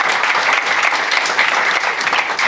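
Loud, dense audience applause at a mental health indaba event, many hands clapping continuously and close for a couple of seconds without speech.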